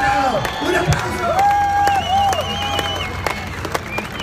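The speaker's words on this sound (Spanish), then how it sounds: "¡Un aplauso!" Lively crowd applause mixed with cheering, whoops and shouted voices, with sharp individual claps standing out against the noisy background.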